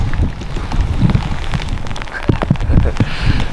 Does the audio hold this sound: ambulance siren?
no